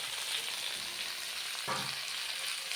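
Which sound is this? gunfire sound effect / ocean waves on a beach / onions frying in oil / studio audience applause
onions frying in oil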